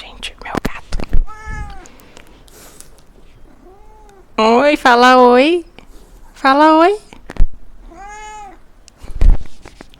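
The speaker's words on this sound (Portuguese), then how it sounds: "Oi, gatinho. Vem cá, vem. Sobe aqui. Gente, meu gato." A pet cat meows close by, several separate calls with a few longer drawn-out ones, while someone speaks softly in between.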